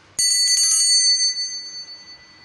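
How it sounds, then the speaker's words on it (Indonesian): A bright metallic bell rings once with a sharp strike, its clear high tones sustaining and slowly fading into silence, heard alone and close. "dimulai dengan tanda lonceng berbunyi"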